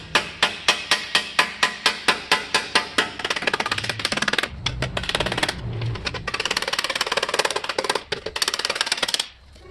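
Hammer blows on aluminum breastplate armor over an anvil, first a steady run of evenly spaced ringing strikes, then faster dense close-up pounding with brief pauses.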